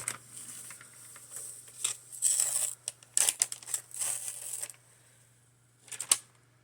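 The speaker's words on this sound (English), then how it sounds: "And then I can just roll the paper right off of there." Paper backing being peeled and rolled off a clear acrylic quilting ruler, producing close crinkling and tearing rustles in uneven bursts, followed by a short pause and then one last brief crackle.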